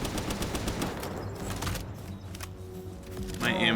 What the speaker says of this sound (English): little assault rifle, you guys